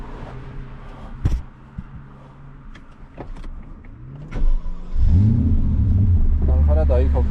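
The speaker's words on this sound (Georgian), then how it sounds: "ვეცდები რომ დავქოქო" A car with a suspected broken axle, stopped in Germany near the Nürburgring, sits quiet apart from a few sharp clicks, then its engine cranks and catches about two-thirds of the way in, settling into a loud, close idle while a voice speaks.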